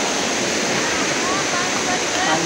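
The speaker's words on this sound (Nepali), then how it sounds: "पानी पऱ्यो" Rain pours down in a village, a loud, dense and unbroken hiss with no pauses.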